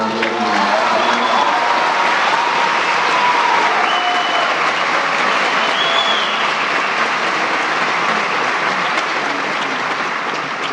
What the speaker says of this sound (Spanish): Les pido otro aplauso, por favor, para darle.